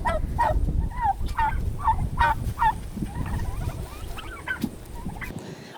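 Turkeys on a cattle and turkey farm using rotational grazing gobble loudly and repeatedly, several birds calling in overlapping bursts, close by over outdoor rustle that fades toward the end.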